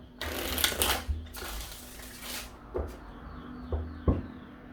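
Bursts of riffling tarot cards between pauses, a few quick flutters followed by single taps and snaps, close and fairly soft over a low background hum.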